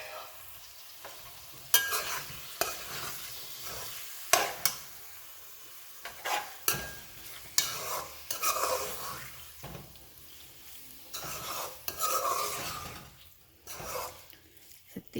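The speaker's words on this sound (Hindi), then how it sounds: "मसाला भून गया, मैं इसमें प्राउन शामिल करूँगी।" Prawns sizzle as they fry in a curry masala, with loud crackling hiss and intermittent stirring clatter through the pan, up close and without talk.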